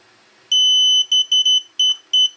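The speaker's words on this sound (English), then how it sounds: "until you hear the beep, and there we go, it is bound" A DJI Spark drone controller emits sharp high-pitched electronic beeps while binding: one long tone followed by a quick series of shorter beeps, loud and close in a quiet room.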